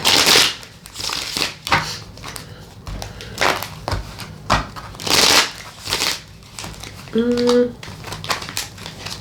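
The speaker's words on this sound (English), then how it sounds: "Cards are coming out here." Tarot-style cards are shuffled and handled close by, with crisp crinkling riffles and soft slaps in irregular bursts, under intermittent talking.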